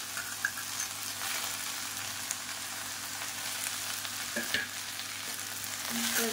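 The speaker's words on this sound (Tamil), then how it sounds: "நல்லா வதக்கி விட்டுக்கலாம்." Mint, coriander and curry leaves sauté in a hot pan with a steady, even sizzle and hiss, joined by a few soft stirring scrapes near the end; no one talks.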